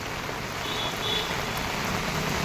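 Steady rain falls at the Khed bus station in Ratnagiri during the first heavy downpour after a hot spell, a continuous even hiss of drops with a faint low rumble of traffic beneath.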